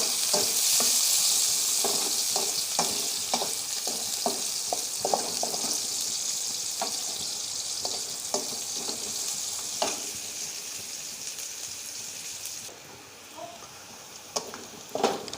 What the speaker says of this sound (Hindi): इसमें प्याज डाल लेंगे थोड़ा सा, और हल्का ब्राउन करेंगे,